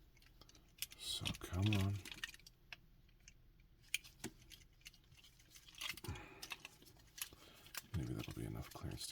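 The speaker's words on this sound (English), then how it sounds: "Click, clack, clickety clack." Plastic parts of a Transformers G1 Megatron reissue figure click and clack sharply while being assembled, a scattered run of close, small snaps with a louder burst near the start, under brief muttered talk.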